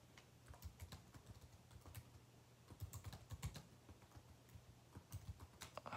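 Rapid, uneven clatter of keys on a computer keyboard, close and fairly quiet, with short bursts and pauses over a faint steady hum.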